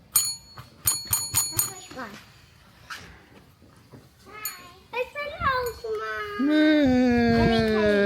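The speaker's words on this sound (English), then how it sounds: "You're gonna ring the bell?" A bicycle-style bell rung in a quick burst of several sharp metallic dings, close and clear, followed by children's voices and chatter with a dog sound nearby at a hotel staycation.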